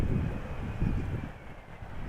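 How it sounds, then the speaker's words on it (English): Crosswind of about 17 knots gusts across the runway at Amsterdam Schiphol Airport, a broad rushing roar buffeting the microphone in uneven surges, loud and continuous with no voices. "we do have a little bit of wind, 17 knots, almost perpendicularly to the runway heading"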